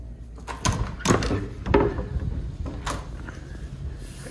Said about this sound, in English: Here's the front door.